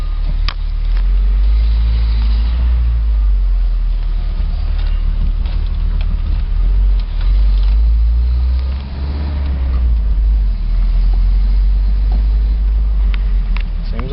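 A Toyota 4Runner with a newly replaced clutch master and slave cylinder drives along, its engine and road noise forming a loud, steady low rumble heard from inside the vehicle throughout.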